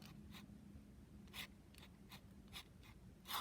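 A flexible stub nib fountain pen scratching across paper in short, quiet strokes, spaced irregularly with a few slightly louder scrapes, alone against a soft background hum.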